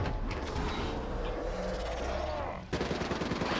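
XR2 rifle gunfire in Call of Duty Black Ops III, rapid loud bursts of shots in a zombies nightmare mode match, stopping briefly before another burst resumes.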